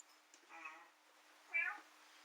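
A house cat gives two faint meows, the second louder and higher, inside a quiet home during a paranormal investigation.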